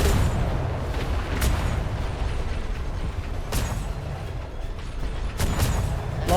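Ship cannons fire in the DarksideRP naval game, with a few heavy booming shots spaced seconds apart over a constant rumbling background of wind and sea.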